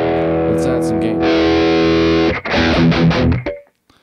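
Electric guitar played through a Rat overdrive pedal with the gain turned up, a loud, fuzzy sustained chord ringing out, then a burst of choppy distorted strums before the sound cuts off into quiet.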